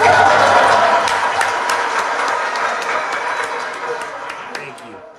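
Dense applause from an audience at a political talk event starts loud and slowly fades over several seconds, with individual claps standing out as it thins.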